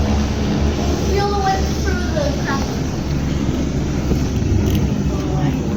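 Close people talk excitedly over the steady, loud rotor and engine roar of a life flight medical helicopter near a bowling center.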